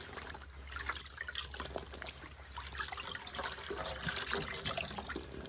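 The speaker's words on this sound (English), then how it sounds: "Kind of flush some liquid down through the tube there." Liquid trickles and splashes as it is flushed through a tube into a fur hide being soaked for tanning, a close, steady wet gurgling that runs throughout.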